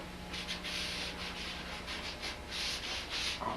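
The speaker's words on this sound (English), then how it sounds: "I'm just going to start darkening up, blackening up that leg" A cloth rubs a blackening finish onto a wooden table leg with rhythmic scrubbing strokes, soft and close. A low steady hum runs underneath and no one speaks.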